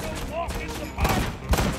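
Gunfire in the video game Ride to Hell: Retribution: two sharp, loud bursts a half-second apart cut through a steady game-sound bed, with a voice faintly present.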